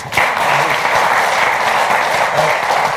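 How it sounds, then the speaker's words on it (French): Loud, sustained applause from an audience for an artist at a café gathering, a dense continuous wash of clapping held at even strength from start to finish. "On va t'applaudir encore très fort"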